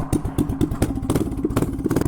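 A tiny mini bike's small engine fires and runs on a snowy day, a rapid, uneven putter with steady thudding pulses close by, rattling and clattering with no talk over it.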